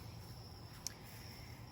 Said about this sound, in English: all the bugs are buzzing about